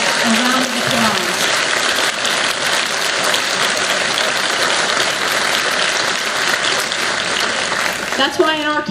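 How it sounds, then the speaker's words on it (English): Sustained applause from an audience honouring law enforcement officers at a House Republican event, loud and steady throughout, with a brief voice at the start and again near the end. "Let's give all of our law enforcement officers a round of applause."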